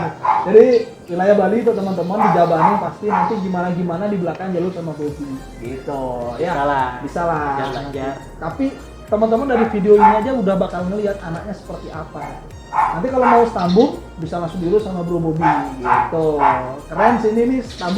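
Several dogs at a Siberian Husky kennel bark and yip intermittently in the background, mostly buried beneath continuous close conversation between two men.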